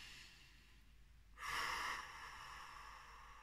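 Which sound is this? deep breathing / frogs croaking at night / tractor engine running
deep breathing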